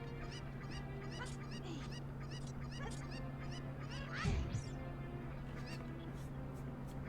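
A cucco chicken is tossed in The Legend of Zelda: Ocarina of Time, letting out one brief squawk midway over steady background game music.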